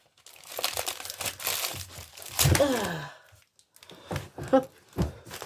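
Layers of wrapping on an advent calendar gift crinkle and rustle in bursts as they are peeled open, with a louder tearing crunch midway and soft voices and sighs mixed in.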